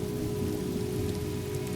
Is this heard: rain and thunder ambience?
yes